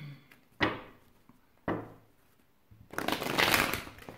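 Tarot cards handled and shuffled at close range before a reading: two sharp taps, each followed by a short papery decay, then a longer, louder rustling burst of shuffling.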